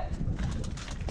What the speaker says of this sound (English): stop and say hi to the pigeons